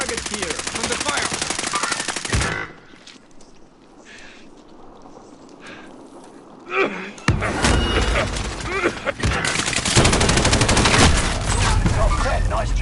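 Call of Duty Warzone gunfire hammers in loud sustained automatic bursts, drops out for a few seconds of quieter background, then returns in dense volleys close by, with occasional voice chatter mixed in.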